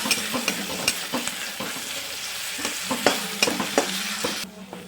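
A spoon stirring frozen peas into frying vegetables in a pan, a continuous sizzle under repeated sharp scraping strokes at an uneven rhythm, close and fairly loud, cutting off abruptly at the end.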